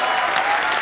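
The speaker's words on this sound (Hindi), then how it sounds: "जोरदार तालियां।" A studio audience at a comedy talk show claps in a short, dense burst of steady applause with no voices over it.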